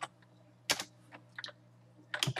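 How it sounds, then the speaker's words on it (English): Typing on a computer keyboard while entering text, with scattered clusters of quick, close key clicks separated by short pauses over a steady low hum. "I am going to type my schedule"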